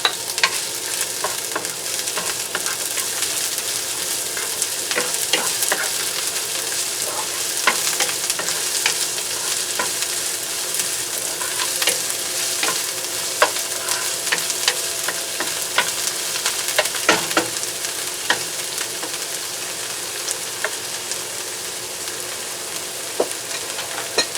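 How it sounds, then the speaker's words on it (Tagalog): Onion sautéing in a pan with browned garlic for pork hock kare-kare, a steady loud sizzle and crackle with frequent stirring clicks and scrapes throughout, no talking. "ito na ang sibuyas naman ang kasunod dahil brown na ang ating bawang"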